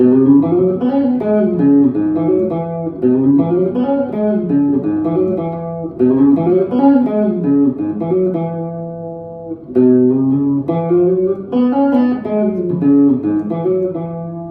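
A clean electric guitar riff repeats at a quick, even pace, with hammered, pulled-off and slid notes looping several times, close and steady, with no talking.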